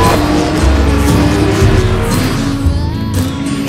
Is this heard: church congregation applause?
no